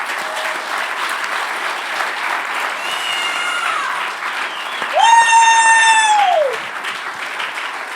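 A crowd at a recovery meeting's newcomers night claps in a dense, continuous round of applause, loud and steady, while a high, piercing electronic squeal or feedback tone rises briefly in the middle.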